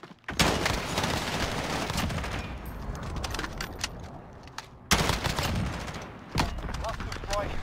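Call of Duty gunfire, sustained bursts of automatic rifle shots and rapid fusillades, loud and close, with brief lulls before more firing and voices mixed in.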